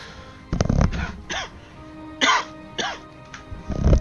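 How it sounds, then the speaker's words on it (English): A man coughs and clears his throat in several rough, separate bursts, close to a headset microphone, with quiet gaps between them. "yeah, sorry about the cough."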